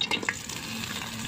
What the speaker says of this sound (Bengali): তেল গরম আছে, এর মধ্যে দেবো কাঁচা পেঁয়াজ, কাঁচা পত্তে আর রসুন কাটা।